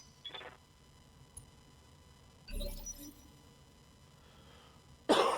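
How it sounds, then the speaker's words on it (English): A few short coughs spaced seconds apart, fairly close, over a faint background hum, the last one sharper and louder. "I would edit those coughs out"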